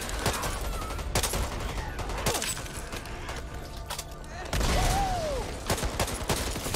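Assault rifle fire in the video game Back 4 Blood, bursts of rapid shots with loud gaps and cracks over game ambience, with a voice talking briefly in between.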